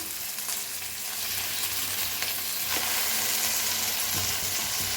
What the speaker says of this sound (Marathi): आता हलवून जरा भाजून घेऊया मिरची लसूण छान असं भाजून घेऊया